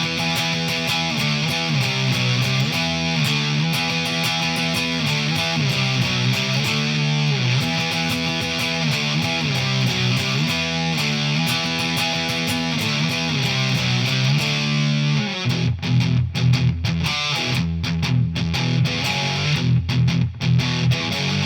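An electric guitar plays rock riffs and chords through a Behringer OD300 overdrive/distortion pedal, loud and saturated with sustained, crunchy tones, ending in a stretch of choppier chugging and stabs, with no talking.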